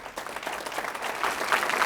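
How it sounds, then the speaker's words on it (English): Audience at a town hall in Denver applauds a speaker coming to the mic, a moderate, steady clatter of many hands that swells slightly toward the end, with no talk over it. "Let's hear it for Cindy."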